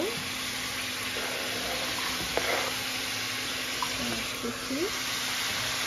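Onion goes into a pan of fried rice with chicken powder, giving a continuous loud hiss and sizzle with faint clinks of utensils throughout.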